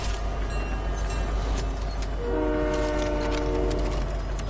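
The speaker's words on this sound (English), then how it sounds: "Let's jump on the train." A train in a shooter video game, a loud continuous rumbling rail roar with a sustained horn-like tone entering midway and holding to the end.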